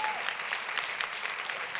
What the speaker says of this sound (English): Come on, clap it up for them.